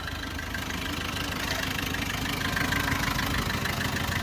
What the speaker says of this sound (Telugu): వెహికల్ కూడా చాలా స్మూత్గా బీటింగ్ అయితే రావడం జరుగుతుంది